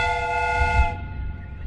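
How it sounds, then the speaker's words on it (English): A train steam whistle sounds in a Sherlock Holmes video game, a bright multi-tone blast held for about a second before cutting off and leaving a low rumble. "The steam whistle is ready to be used."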